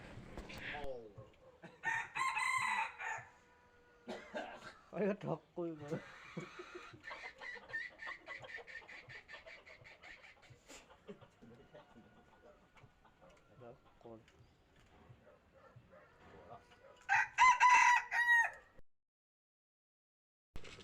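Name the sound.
wild jungle fowl rooster crowing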